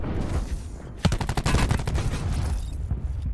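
Maddox gun in a video game firing a rapid burst of shots, a dense rattling volley of sharp cracks lasting about a second, preceded and followed by quieter background noise.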